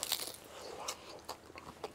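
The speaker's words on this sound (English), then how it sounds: "I think you can hear that crunch." Bite into a crispy griddle-cooked leftover snack with turkey and green chilies, a few sharp close crunches followed by chewing.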